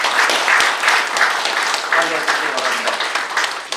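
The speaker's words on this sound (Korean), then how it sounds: "박수 한번 보내주시기 바랍니다." Audience applause at a general assembly of retired Korean generals, steady clapping filling the room for several seconds.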